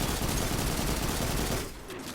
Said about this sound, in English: As you can see, I shoot my auto rifle.